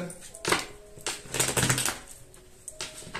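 Tarot cards being cut and shuffled by hand, with quick papery riffles and soft slaps in short bursts, close by, alongside faint background sounds.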